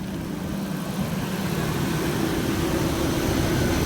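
A Dodge Durango bought at a salvage auction idles right after starting, a steady continuous low engine rumble with an even drone throughout, close and fairly loud, no voices.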